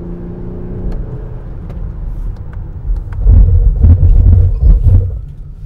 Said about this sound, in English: there's a fake engine noise pumped into the cabin